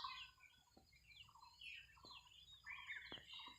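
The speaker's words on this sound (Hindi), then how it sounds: "यहाँ बीच में जो चिड़िया का आवाज़ जो आ रहा है बहुत ही अच्छा है।" Faint bird chirps and short calls repeat over a low background rumble, with a few sharp clicks, distant and outdoors on a trek in Assam with no talking.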